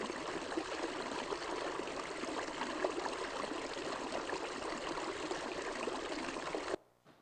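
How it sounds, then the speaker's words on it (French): A natural stream flows steadily, a dense, even wash of running water with bright trickling detail, continuous and close, ending abruptly near the end. "Le ruisseau naturel."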